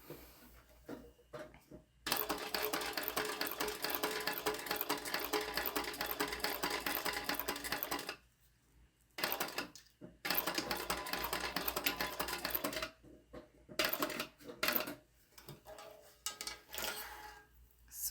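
A sewing machine stitches a sew-in label onto the edge of a tote bag, whirring in long continuous runs with short stops and stuttering restarts between them.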